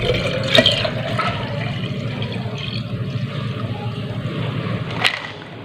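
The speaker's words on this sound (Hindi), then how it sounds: "अब हम इसको एक जग में डाल देंगे।" Strained falsa sharbat is poured into a jug, making a continuous close splashing and gurgling stream of liquid that holds steady throughout and ends with a brief splash.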